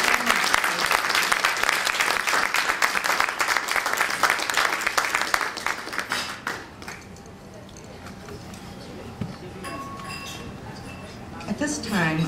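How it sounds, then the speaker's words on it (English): Audience applause at a check presentation during a presidential ball committee event: dense clapping fills the first six seconds, then fades into quieter room ambience with scattered clinks and murmurs. "So please, a round of applause for Frank and Claire."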